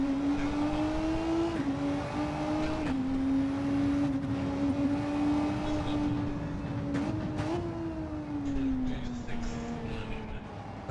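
Race cars on the grid of a DTM racing video game rev their engines before the start, a sustained loud engine drone whose pitch rises and dips in several surges.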